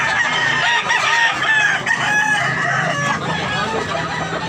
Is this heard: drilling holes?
no